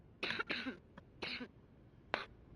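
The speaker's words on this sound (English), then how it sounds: "Sorry about the cough, I'm sick." Several harsh coughs close to the mic, a quick pair followed by another and a final single cough after a pause.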